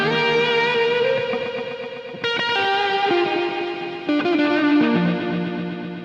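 A vintage TOA DE-1000 digital delay with the regeneration set high, giving a dense, swirling space-echo wash of sustained, distorted guitar-like tones that jump to new pitches about every two seconds, loud and heavily layered.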